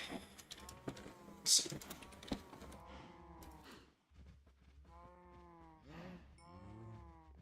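Several drawn-out Minecraft cow moos come one after another, with quick clicks of a computer keyboard being typed on in the background.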